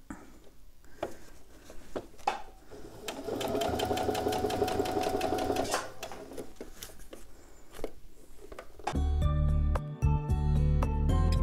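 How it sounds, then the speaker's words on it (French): A sewing machine stitches piping onto a bag strap, with short bursts of rapid stitching, a sustained run in the middle and a louder, faster run at the end, heard close with no talking. "j'écarte bien ma sangle pour pouvoir coudre mon passepoil"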